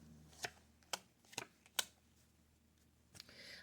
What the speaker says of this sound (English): I'm going to cut the cards and lay out two more